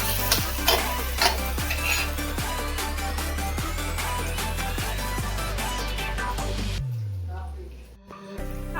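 Fenugreek greens and tomato sizzle in a pan while a spoon scrapes and stirs them, a steady close frying hiss with regular stirring taps that fades toward the end.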